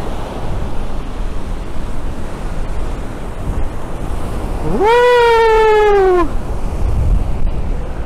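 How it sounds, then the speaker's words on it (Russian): Huge storm waves roar and crash continuously against a groyne on the Crimean coast amid strong wind buffeting the microphone, while a loud rising-then-falling horn-like wail sounds briefly in the middle. "Здесь действительно громадные волны, я вам скажу."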